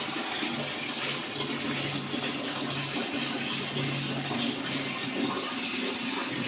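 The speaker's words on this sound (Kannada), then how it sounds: "ಅಲ್ಲಿ ನೀರು ತುಂಬ್ತಾ ಇದ್ದೀವಿ" Water running from a tap into a bucket for washing clothes, a steady faint rushing gush that continues without pause throughout.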